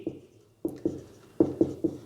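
Pen or chalk strokes from note writing during a geography lecture, a quiet patch followed by a run of five or six short, firm taps and scrapes in an uneven rhythm, close by, with no talking.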